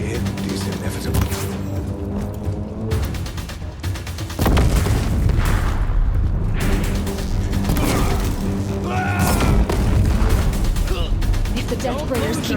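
Deathbringer war machines fire in Horizon Zero Dawn Remastered, unleashing a loud, relentless barrage of heavy booms and blasts that pound on continuously over a rumbling low end.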